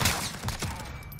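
A shotgun fires in Call of Duty Modern Warfare during a night-vision match, a couple of sharp close blasts in quick succession within a brief burst of gunfire and no talking.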